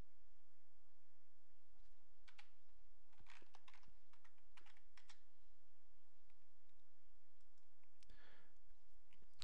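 Quiet computer keyboard typing, with irregular bursts of soft key clicks and a brief flurry near the end, heard close over a faint background hum.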